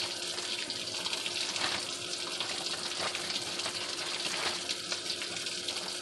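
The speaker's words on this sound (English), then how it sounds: "Rinsing off the salt." Tap water runs steadily over a salted cod fillet in a kitchen sink, a continuous close rushing spray with faint shifts as the fish is turned under the stream.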